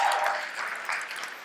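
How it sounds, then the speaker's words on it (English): Audience applause at a stand-up comedy show in a church, a short burst of clapping heard from a distance that fades slightly over its length, with no talking. "I'm glad other people applauded"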